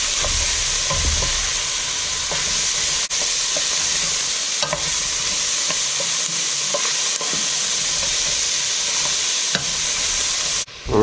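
Sliced carrot and halved fennel bulb sweat in a pot with a steady, close sizzle and soft hiss, broken by a few light knocks of stirring; no voices.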